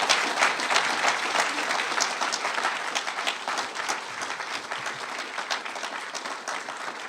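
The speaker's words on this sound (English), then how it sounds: "Let's give a round of applause." An audience at a county budget presentation breaks into steady, moderately loud applause that continues for several seconds without talk.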